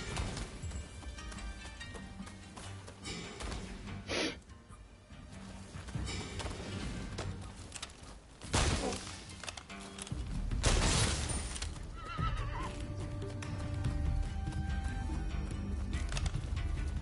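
Horse hooves clip-clopping at a gallop in the samurai video game Rise of the Ronin, rapid rhythmic beats under game sound effects and a brief whinny, mixed with ambient battle noise.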